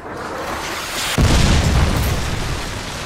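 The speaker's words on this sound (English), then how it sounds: "Friendly Predator missile inbound." Predator missile striking in Call of Duty: Modern Warfare 2 on the Wasteland map, a single sudden loud blast followed by a rumbling roar that slowly tails off.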